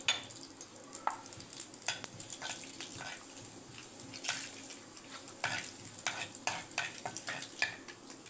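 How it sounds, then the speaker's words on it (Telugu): Cumin seeds frying in hot oil in a kadai, a quiet crackling sizzle broken by frequent spoon scrapes and clinks against the pan. "కడాయిలో ఆయిల్ వేసుకున్నానండి. ఆయిల్లోకి మనం ఇప్పుడు జీలకర్ర వేసుకుందాం."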